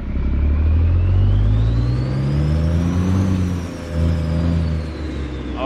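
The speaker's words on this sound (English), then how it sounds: "And I will fire this thing up and apologize ahead of time to you headphone users" A heavy truck engine in American Truck Simulator fires up and revs, a loud, deep rumble whose pitch rises then eases back and settles into a steady idle, heard alone.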